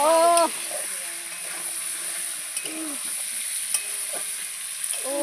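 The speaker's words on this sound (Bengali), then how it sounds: "এবার বন্ধুরা সবগুলোকে এভাবে ভালো করে মিশিয়ে নাড়াচাড়া করতে হবে" Egg curry fries in a pan while it is stirred and mixed, giving a steady high sizzle with scattered scraping strokes and brief voiced sounds breaking in now and then.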